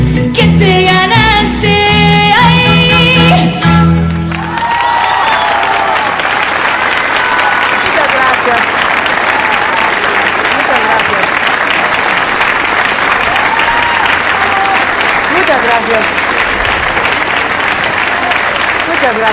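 Sustained audience applause with crowd cheering follows the closing notes of a live mariachi band performing on a television show, the clapping loud, dense and steady for many seconds.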